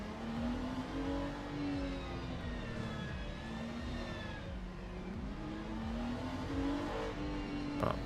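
A BMW race car in Le Mans Ultimate pulling away on a formation lap, its engine note rising and falling through revs in a smooth whine, fairly quiet and continuous with no voices.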